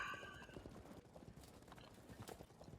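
Armoured horses in the strategy game Field of Glory II clop along in a steady, busy patter of hooves with a whinny early on, set against a low battlefield murmur.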